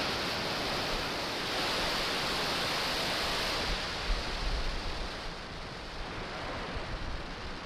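A Falcon 9 rocket lifts off with a dense, steady broadband roar that stays loud throughout, deepening with low rumble partway through.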